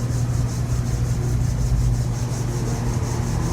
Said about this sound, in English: rubbing those palms together. Feeling that friction, just feeling those sensations of rubbing.